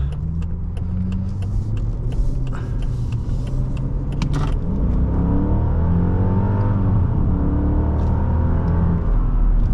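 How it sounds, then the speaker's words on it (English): A 2001 Mercedes-Benz S55 AMG engine accelerates on the road, a smooth steady hum that climbs in pitch through rising gears under light road and cabin noise. "There's plenty of torque under the pedal, and this Mercedes just glides with authority"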